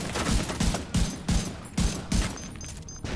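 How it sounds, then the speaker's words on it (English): Heavy machine-gun fire from enemy heavies in The Division 2, loud bursts of rapid automatic shots repeating in a steady rhythm, with brief gaps between volleys. "Some heavies with these machine guns at top here."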